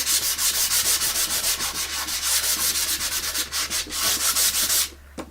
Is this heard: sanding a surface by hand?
yes